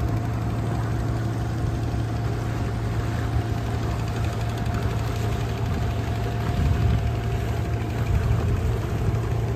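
A motor boat engine drones steadily and continuously during a Sharavati backwater safari in Karnataka, with a low, even hum and no talk.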